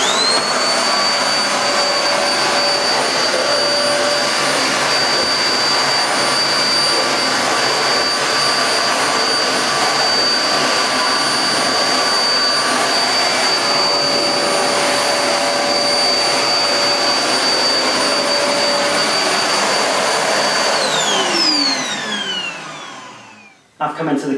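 A Goblin GCV301W bagless cylinder vacuum cleaner roars steadily with a high whine while cleaning carpeted stairs using the main floor nozzle, loud and continuous before powering down near the end.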